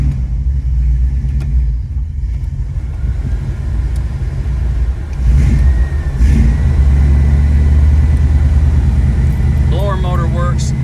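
A restored 1965 Ford Mustang with a 289 V8 runs close by, a loud steady low rumble that swells briefly midway as the engine is revved, then settles back to a constant idle.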